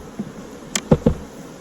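Honeybees buzzing around a weak hive box during a split, with a few brief, close buzzing passes standing out against quiet surroundings.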